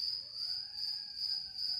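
Crickets chirp in a steady, continuous high trill with soft pulsing, alone and fairly close, used as a sound effect for awkward silence.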